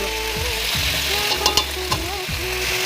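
Potatoes and yardlong beans frying in oil in a pan, with a steady loud sizzle, a few scraping stirs and clinks of a utensil against the pan throughout.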